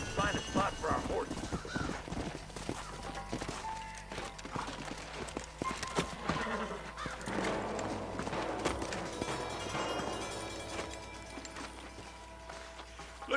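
Horse hooves clip-clop along with occasional snorts amid game-style ambience in Red Dead Redemption, while voices talk over the scene.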